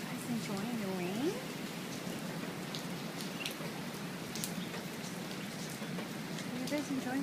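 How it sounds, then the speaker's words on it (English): Steady rain patters down on a mother duck and her ducklings outdoors, a continuous soft hiss throughout, with a person talking over it. "Are you guys enjoying the rain?"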